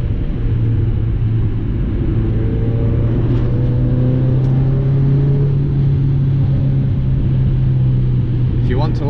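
A Mazda MX5 rolls over loose gravel, giving a loud, steady rumble of engine and road noise with a low drone throughout, plus a faint crunch of stones under the tyres.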